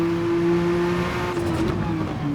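Race car engine at full throttle in Gran Turismo 7, a steady loud droning whine held at a constant pitch before easing slightly toward the end.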